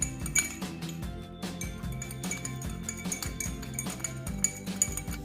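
A spoon stirs tender coconut water in a glass, giving steady repeated clinks and light tapping against the glass in a quick regular rhythm, close and clear over a low background hum.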